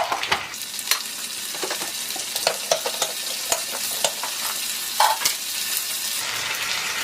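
Chopped tomatoes added to chilies already frying in a pan for a coriander chutney, sizzling steadily with scattered clicks and scrapes of stirring, close and moderately loud, with no talking.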